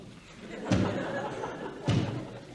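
Two heavy sledgehammer blows strike a wall inside an espresso bar in a 1957 comedy setting, each a loud, close thud about a second apart, over a low background murmur.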